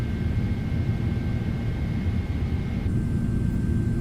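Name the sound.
PMDG 777 engines roaring during climb, video game Microsoft Flight Simulator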